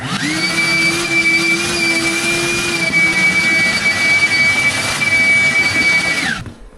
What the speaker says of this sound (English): I take my vacuum cleaner and I suck on these really well.